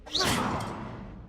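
An Incendio fire spell is cast in Hogwarts Legacy and lands as one short whooshing burst that fades over about a second.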